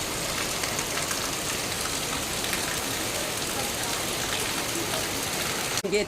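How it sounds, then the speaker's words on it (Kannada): Heavy rain falls steadily and close, a dense, unbroken roar of drops on surfaces that lasts the whole stretch, with no talk over it. "ಇವತ್ತು ಆದರೆ ಚೆನ್ನಾಗಿ ಮಳೆ ಬರ್ತದೆ"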